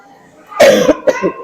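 A woman coughs and clears her throat up close, one harsh burst followed by a shorter second one, with no talk over it.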